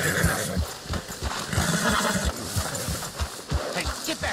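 A horse whinnies loudly nearby in the video game Red Dead Redemption 2 while hooves clop steadily underneath, with faint background rumble throughout.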